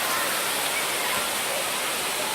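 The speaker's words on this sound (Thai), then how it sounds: "น้ำตกสุนันทานครศรีธรรมราชครับ" Sunanta waterfall in Tha Sala, Nakhon Si Thammarat, Thailand, pours with a constant, loud, broadband roar of falling water, steady throughout with no voices.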